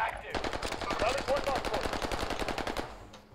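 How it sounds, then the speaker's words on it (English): Automatic gunfire in the Warzone video game, a rapid steady stream of close shots rattling continuously for about three seconds before stopping. "They're shooting at each other here"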